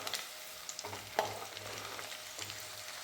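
Garlic fries in hot oil for perandai oil, giving a steady, moderate sizzle with occasional crackles. Faint stirring clinks come through, and a brief sharp tap against the pan sounds near the middle.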